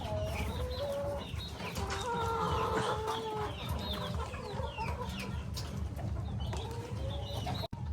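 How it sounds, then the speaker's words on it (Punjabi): Chickens and roosters kept by households in Penglipuran village, Bali, cluck and call steadily over continuous outdoor background noise, several birds overlapping near and far. "ਇਹਨਾਂ ਨੇ ਕੁੱਕੜ ਰੱਖੇ ਆ"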